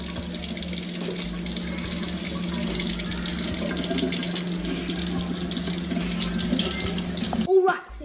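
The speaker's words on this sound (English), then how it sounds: "take the saltfish, put it under the tap, and we're gonna get all the salt from the top off" Saltfish rinsed under a running tap, a continuous steady rush of water splashing into a sink, loud and close, cutting off abruptly near the end.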